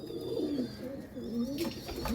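Pigeon cooing while held in a hand, a soft close throaty coo repeated in rolling phrases, with faint handling sounds near the end.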